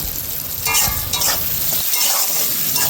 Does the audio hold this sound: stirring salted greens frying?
yes